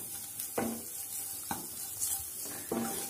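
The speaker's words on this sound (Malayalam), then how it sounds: "പൊടികളടക്ക പച്ചമണം മാറുന്നത് വരെ ഒന്ന് വഴറ്റി കൊടുക്കണം" Spice powders being sautéed and stirred in a pan while cooking vegetable cutlets: a soft steady sizzle with a few distinct scrapes and clinks of the spoon against the pan, fairly quiet and close.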